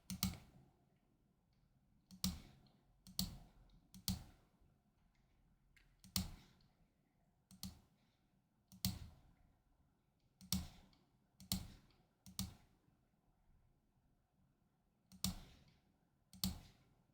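Isolated computer mouse clicks, about fifteen crisp close taps at irregular intervals, recorded in a quiet room during design work in Canva.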